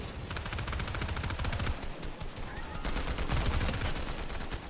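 Rapid bursts of combat assault rifle fire in Fortnite Reload, a dense crackling stream of shots that runs almost continuously, moderately loud, with brief dips between bursts.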